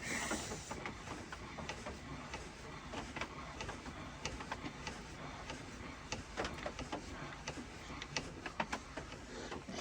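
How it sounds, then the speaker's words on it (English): The crank of an HMV 102D portable gramophone is wound by hand, giving a continuous close ratcheting, clicking mechanism with a rapid irregular rhythm throughout, mechanical and fairly loud with no voices. "Because it's an oversized record, well, for this machine, we will crank it up a bit."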